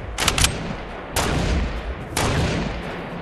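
Fortnite gunfire: three sharp loud shots or short bursts about a second apart, each trailing off into a rumbling decay, with no talking.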